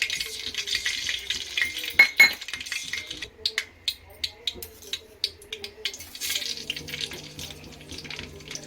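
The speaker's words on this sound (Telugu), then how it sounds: "ఆయిల్ వేడెక్కింది. జీలకర్ర ఆవాలు వేసాను, కరివేపాకు వేసాను" Cumin, mustard seeds and curry leaves crackle in hot oil in a pan for tempering. A soft, hissing sizzle runs throughout, broken by scattered sharp pops and a few light utensil clinks.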